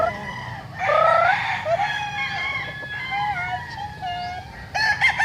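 Roosters crow at a chicken farm, with drawn-out calls rising and falling in overlapping bursts from several birds at moderate distance, alongside a few clucks and a faint background of other fowl.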